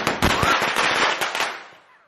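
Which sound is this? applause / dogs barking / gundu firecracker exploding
gundu firecracker exploding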